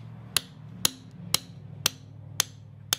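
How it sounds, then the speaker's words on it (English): Hammer striking a stuck valve cover, six sharp metallic blows at an even, unhurried rhythm, close and clear over a low background hum. "I need a real hammer."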